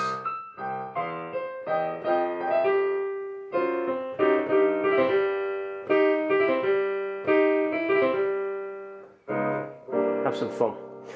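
A solo piano plays a bluesy riff with quick trills woven between chords. The phrases are lively and fairly loud, with short pauses between them.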